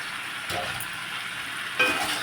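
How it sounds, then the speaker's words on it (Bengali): Fried potatoes go into a pan of spices being cooked down, giving a steady loud sizzle with a sharper burst near the end as more is added and stirred. "মশলাগুলো ভালোভাবে কষে কিন্তু আমি ভাজা আলুগুলো দিয়ে দেব।"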